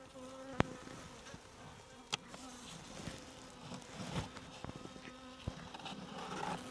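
Native Korean honeybees buzz in a hive in a continuous faint drone, with sharp clicks and taps scattered through it, close but low in level.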